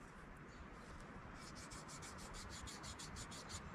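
A blade is stroked across the built-in diamond sharpener of a Bear Grylls Ultimate survival knife, making a faint, steady rasping rub in a regular back-and-forth rhythm under a quiet, constant background.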